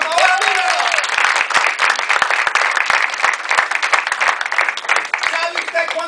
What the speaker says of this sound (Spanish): ¡Denle un aplauso, por favor, amigo!